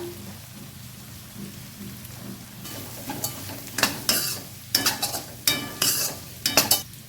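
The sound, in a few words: ginger and garlic frying in pan for egg curry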